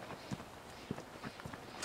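Horse hooves clip-clop faintly on a family trail ride: a few sparse, uneven thuds sound at a distance over quiet outdoor background.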